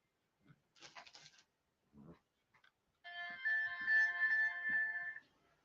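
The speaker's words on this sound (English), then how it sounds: "Somebody's trying to phone." A phone ringtone plays, a bright tonal melody entering after some scattered faint noises and continuing for a couple of seconds at moderate volume before stopping.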